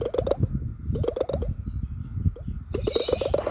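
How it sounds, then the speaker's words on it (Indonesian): Bird chirps from the Stack Ball mobile game come in quick repeated bursts of bright tweets, loud and close, over a bed of clicky game sounds. "Banyak banget suara burungnya."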